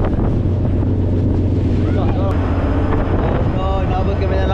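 Strong wind batters a boat at sea during a rough trip in November, a loud steady roar of gusts and engine drone with water sloshing, while voices shout and talk over it.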